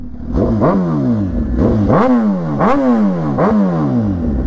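A Suzuki Gixxer sport motorcycle engine revs repeatedly, rising and falling in quick bursts, loud and close with a rough, buzzy tone.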